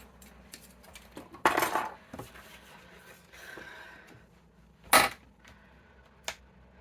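Old Stampin' Up rubber-cutting scissors handled at a scrapbooking table, giving a few sharp metallic clicks and clatters, loudest near the start and middle, with quieter rustling between.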